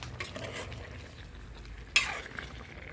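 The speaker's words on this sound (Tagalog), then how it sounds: "Wait, haluin muna natin." A spoon stirs chicken caldereta with tomato in a pan, giving soft scraping and a light sizzle, with one sharp clink of metal on the pan near the middle.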